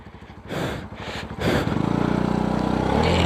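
A motorbike rides through jungle terrain, its engine rumbling unevenly and then settling into a steady, throbbing idle-like putter up close, with no talk.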